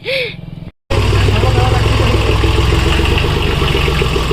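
A tractor engine idles close by in a loud, steady rhythmic chug after a short cut, with a brief voice at the very start.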